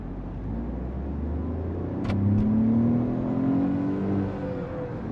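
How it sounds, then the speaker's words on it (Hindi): A Tata Tiago CNG AMT accelerates hard from a standstill, its mid-pitched engine note climbing steadily in pitch and loudness, then holding high and easing off slightly near the end, close up and without talk. "अब देखते हैं गाड़ी 100 की स्पीड कितनी देर के अंदर पकड़ लेती है।"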